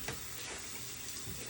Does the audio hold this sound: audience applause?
no